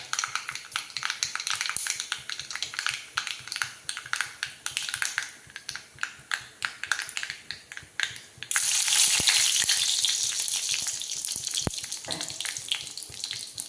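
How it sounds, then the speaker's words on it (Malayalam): Green chilies frying in hot coconut oil with mustard seeds for a jackfruit thoran: sharp crackling pops at first, then a loud, steady, close sizzle that fills the rest of the time, with no talk. "കടുക് മുഴുവൻ പൊട്ടി കഴിയുമ്പോൾ നമുക്ക് പച്ചമുളക് ഇടാം."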